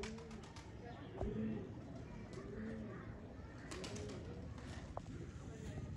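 Pigeons, adult females kept as pets, coo softly in a loft with repeated low rolling calls and occasional wingbeats, while someone talks over them throughout.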